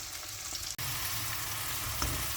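Cumin, coriander, turmeric and chili spices frying in a pan for prawn curry, a loud, dense, close sizzle with stirring scrapes, briefly cutting out before continuing steadily.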